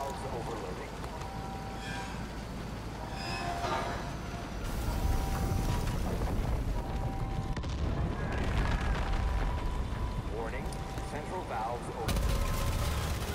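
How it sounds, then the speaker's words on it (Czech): Gunfire from a sniper in the video game Far Cry 5 rings out in repeated sharp cracks and bursts over a steady noisy game backdrop, with someone talking now and then. "Už zase do mě střílí"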